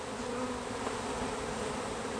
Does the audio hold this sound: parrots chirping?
no